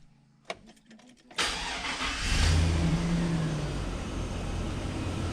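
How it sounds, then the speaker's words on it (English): A 2000 Chevy Silverado pickup under air-conditioning repair cranks over with a few clicks, fires up and settles into a steady idle as the engine is brought up in revs, loud and close. "Now we can start the truck, turn the AC on, and we'll bring her on up."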